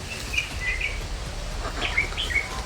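A few short crow calls sound over a low outdoor rumble, in two small clusters, moderately distant.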